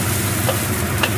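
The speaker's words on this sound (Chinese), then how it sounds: "炒到有个香味" Ingredients for braised pork shank stir-fried in a pan, a steady close sizzle with light scraping of stirring, brief and continuous.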